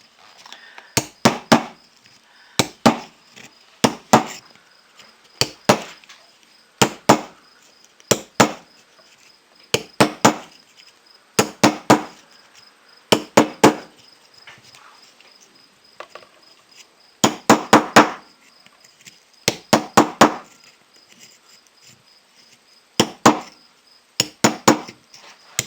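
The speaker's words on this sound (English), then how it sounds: "I started tamping these down with a hammer at this stage right here" Hammer tamping down battery cells, sharp metallic knocks in quick bursts of two or three strikes, then pauses, repeated steadily and close up with no voices.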